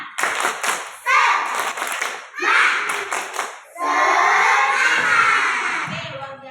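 A classroom of schoolchildren perform the tepuk semangat clapping chant, bursts of rhythmic hand claps in quick patterns mixed with loud shouted chanting, pausing briefly between rounds before a final sustained cheer.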